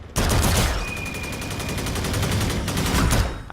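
The Mammoth, a weapon in a shooter video game, fires dense rapid bursts, loud and continuous, with a brief lull before a final flurry. No one speaks.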